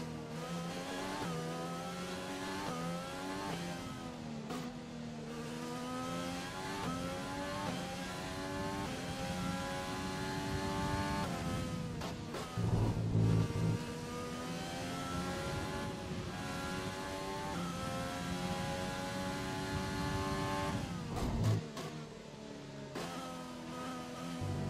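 A Formula 1 race car engine in the F1 2020 video game, showing minor wear with a slight loss of power, revs loud and continuous with rising and falling pitch through gear changes, alone without talk.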